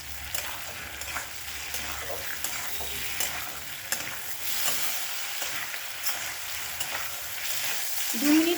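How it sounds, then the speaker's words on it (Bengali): Tomato and lentil dumplings (bori) fry in oil over a high flame, giving a steady close sizzle broken by the scrape and clatter of stirring, with no talk. "এবার হাই ফ্লেমে 1 থেকে 2 মিনিট ভেজে নেব।"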